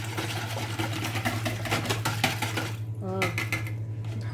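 Honey being stirred together with water in a bowl, a continuous rapid clinking and scraping of a utensil against the dish, close and fairly quiet over a steady background hum.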